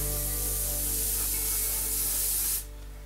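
Airbrush spraying primer paint directly onto a plastic Dreadnought miniature, a close, steady hiss that stops abruptly near the end.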